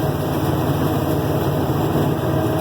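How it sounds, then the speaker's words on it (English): Combine harvester engine running steadily during a 2020 bean harvest, a constant close, loud mechanical drone with no break and no talk. "So hopefully you can hear the engine."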